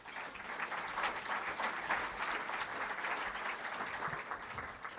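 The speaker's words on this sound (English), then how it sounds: "Please give Daryl a warm round of applause." Audience applause for a speaker at a National Network of Youth Ministries event, a steady, dense wash of clapping from a large crowd that holds at an even level throughout.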